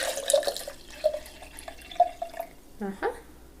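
Distilled vinegar poured over an egg in a container, a light splashing trickle with a few distinct drips, brief and close, with a voice speaking over the end.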